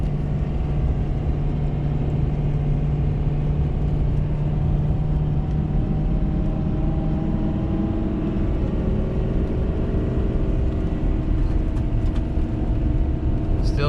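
A tuned Ford Powerstroke diesel pickup towing over 30,000 lbs up a steep grade in third gear, its engine droning loud and constant under heavy load with a low steady hum throughout.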